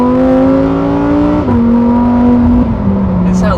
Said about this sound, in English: That's a factory exhaust system. It sounds good, but it is obnoxiously loud.